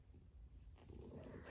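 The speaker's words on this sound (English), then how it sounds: "Can you hear her purring?" A pet cat purrs softly and steadily while resting close by on a sick bed, a faint low continuous rumble with no talking.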